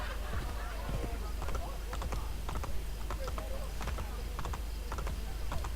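Rhythmic clip-clop of horse hooves in the Assassin's Creed Brotherhood video game, a steady trotting beat under someone talking, with faint keyboard-like clicks mixed in.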